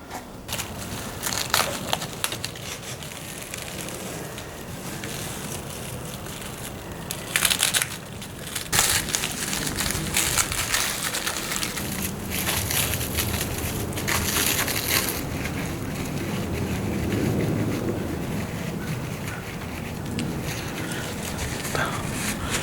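A packaged motorcycle part, billet pieces, being unwrapped close up, with continuous crinkling and crushing of packaging and rustling throughout, brief louder rips and handling bumps.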